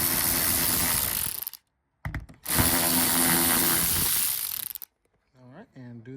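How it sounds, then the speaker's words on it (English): Milwaukee power ratchet buzzing loudly in two long bursts with a short stutter between them as it removes 10mm bolts beneath a 2011-2017 Hyundai Elantra, up close, followed by faint brief voices. "I'm using this Milwaukee ratchet just like this."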